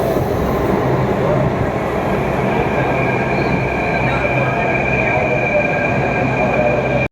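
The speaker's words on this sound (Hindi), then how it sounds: "ये मेट्रो है।" Metro train at a station, a steady loud rumble of rail noise with faint high squeals running throughout, no clear talk.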